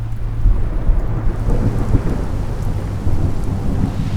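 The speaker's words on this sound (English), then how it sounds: "Rain, of course, because it wouldn't be a big event without Mother Nature." Heavy rain pours down at Eldora Speedway during a big race event, a loud steady hiss of rain on surfaces with deep rumbling thunder rolling underneath throughout, with no voices.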